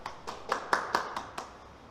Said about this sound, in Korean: 우리가 이 시간 하나님께 영광의 박수 돌리도록 하겠습니다